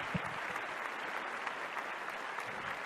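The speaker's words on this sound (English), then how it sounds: "let's give them a big round of applause" Steady, quiet applause from a studio audience in the backstage room of a televised ballroom dance competition, a dense even patter of many hands that continues for a few seconds.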